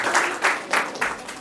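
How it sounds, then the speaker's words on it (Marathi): Audience applause at a Marathi comedy talent show, moderately loud clapping that comes in several swelling bursts over a short stretch. "शिवमसाठी एकदा जोरदार टाळ्या पाहिजे."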